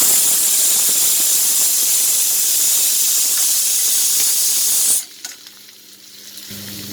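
Onions sizzle and fry in hot sesame oil, a loud, steady hiss lasting about five seconds that then cuts off abruptly into quieter stirring sounds.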